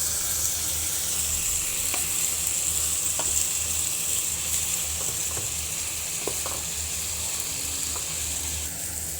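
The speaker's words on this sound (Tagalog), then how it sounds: "Ayan na, nilagay na natin yung itlog. Haluin lang natin." An egg fries in a hot pan and is stirred, with a loud steady sizzle throughout and light scraping taps from the stirring, close up.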